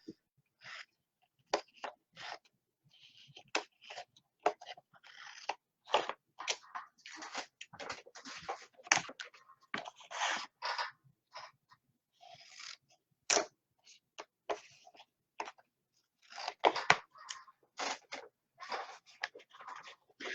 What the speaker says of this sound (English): And then just go ahead and cut that off.